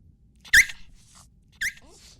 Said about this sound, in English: Silly dog. Nothing's gonna come out of there no matter how much you bark.